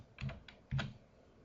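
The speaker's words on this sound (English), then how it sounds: "We're going to type in just shorter digits." Digits typed on a computer keyboard, two soft, close clusters of key presses separated by a brief pause in a quiet room.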